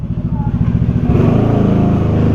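A 300cc motorcycle on a road test revs its engine loudly and close by, the throbbing pulse climbing and holding steady after a second, with no voices.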